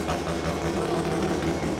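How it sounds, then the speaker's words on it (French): A Mazda prototype race car's rotary engine runs at a steady, buzzy idle, a close, low throbbing drone with no break and no talk. "C'est donc ça un moteur rotatif."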